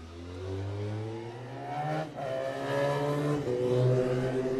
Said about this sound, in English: riding his own factory RC45 Honda